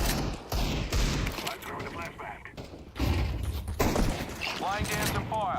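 Rapid bursts of gunfire crackle through a Counter-Strike match, several clustered volleys of shots with thumps and mechanical clatter, with a voice talking over parts of it.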